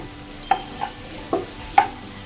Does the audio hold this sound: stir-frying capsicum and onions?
yes